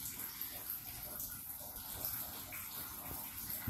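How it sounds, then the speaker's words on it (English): Maple sap running through gravity sap lines outdoors, a steady, continuous trickling flow of liquid, quiet and fairly close, with a soft hiss throughout. "They're flowing like crazy today. Pretty much almost a steady stream."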